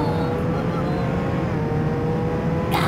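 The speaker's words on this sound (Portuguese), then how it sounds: "Carro voador!" A flying car's engine in the Roblox video game drones loudly and steadily for a few seconds, a continuous mechanical hum with no clear rise or fall, ending in a brief brighter whoosh.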